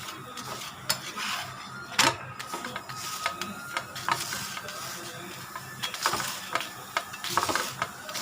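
A chapati cooking on a hot pan while being pressed down with a ladle: a soft, close sizzle punctuated by irregular scraping clicks and taps of metal, no voices.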